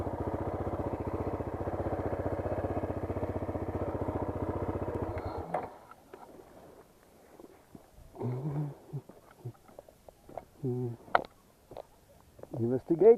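A motorbike engine idles at a railway crossing in Sri Lanka, a steady close putter that stops abruptly about midway, followed by quieter scattered sounds and short bursts of nearby speech.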